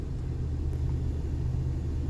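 A Nissan NV 3500 van drives on a test drive, its engine and road noise forming a steady low rumble heard from inside the cab, with no talk.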